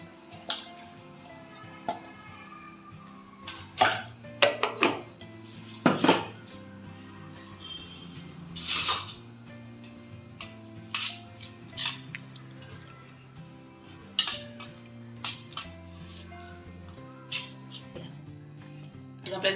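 Sesame seeds and coarsely crushed, partly skinned peanuts for tilgul vadi are mixed in a metal vessel, giving scattered clinks, scrapes and rattling bursts, close and irregular over a quiet background.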